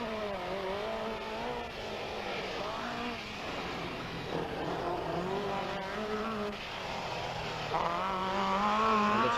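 A Chevette rally car races hard along a twisting course at Guggenbarra, its engine revving and shifting continuously as it is driven flat out through the bends, loud and close throughout.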